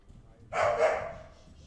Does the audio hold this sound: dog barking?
yes